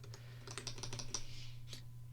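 Typing on a TG3 KBA-BLTI keyboard: a quick run of clicky keystrokes in an uneven burst, then a pause and a final key press, close up over a steady low electrical hum.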